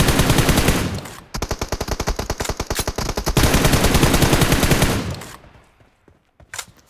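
Rapid automatic gunfire in the mobile battle royale game BGMI: loud, close bursts of machine-gun fire broken by short pauses, ending in a few scattered faint shots.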